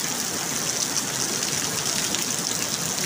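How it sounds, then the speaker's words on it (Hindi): Heavy rain pours down in Haripur, Pakistan, a dense, steady hiss of falling water with splashing, continuous and fairly close, no voices. "बहुत तेज़ बारिश।"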